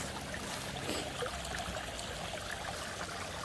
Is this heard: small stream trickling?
yes